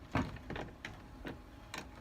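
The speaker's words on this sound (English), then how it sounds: "Shut this door." A wooden shop door being pushed shut in a carving workshop: a few separate knocks and rattles, close and fairly quiet, with no talking.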